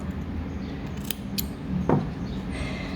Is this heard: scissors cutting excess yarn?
yes